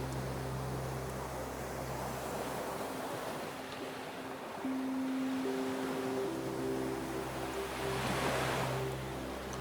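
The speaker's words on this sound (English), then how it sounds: "The wind continues, the sea below continues, the beam turns." Steady wind and surging sea waves below a lighthouse in the Faroe Islands, a continuous broadband roar with slow swells; a low droning tone runs underneath throughout, and no one speaks.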